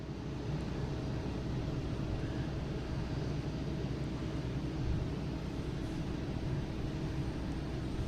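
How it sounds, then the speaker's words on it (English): A Southwest Boeing 737 MAX 8 readying for takeoff at Boston Logan produces a steady, moderately loud jet-engine roar that holds evenly throughout, heard from a distance without any talking. "this guy should have the clearance to take off"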